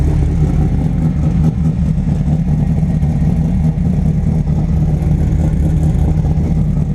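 A 1986 Pontiac Trans Am with a swapped LQ4 V8, idling steadily after a cold start following two months sitting, a loud, close, even low rumble with a slight uneven lope and no talk.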